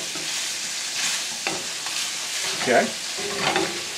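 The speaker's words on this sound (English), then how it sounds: "Now, at this point, I'm going to add back my mushrooms. Okay. Stir that in, incorporate that." Mushrooms are stirred into a sizzling chicken Marsala sauce in a pan, with steady frying crackle, scraping spoon strokes and clinks close by, and one brief spoken word.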